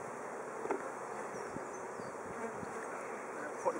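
Honeybees at an open hive, with big drones among them, make a constant droning buzz close by, with a few louder passes of individual bees and faint handling knocks.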